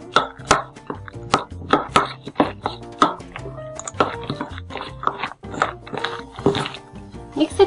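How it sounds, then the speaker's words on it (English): Roasted, skinned peanuts are stirred into a thick masala batter in a bowl, making close, sticky, uneven clacks and wet squelches in a quick irregular rhythm, with no voices. "Mix it well so that the masalas completely coats with the peanut"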